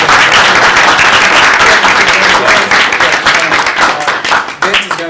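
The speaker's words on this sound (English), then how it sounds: "just want to give a round of applause for everybody" An audience applauds a panel at the end of a government contracting session: loud, dense, close clapping with a murmur of voices that fades slightly toward the end.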